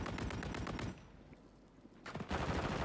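Rapid automatic gunfire in a video game: a loud sustained burst, a short near-silent lull, then another dense volley, with no talking.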